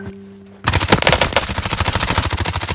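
After a short lull, loud close-range automatic gunfire erupts in the video game Warzone, a rapid sustained burst of repeated shots that keeps going to the end, with no talk over it.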